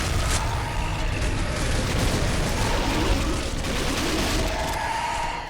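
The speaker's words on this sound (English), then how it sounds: "only muffled by the mechanical sounds of your gunshots and even louder splatters of the zombies you" Dense, continuous gunfire from the zombie shooter game SAS 3 Zombie Assault, loud and overlapping with mechanical clatter throughout, with no pauses and no voices.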